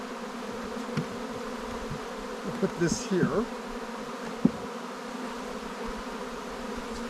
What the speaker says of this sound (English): But you've got bees everywhere, and of course they want to be right where you are.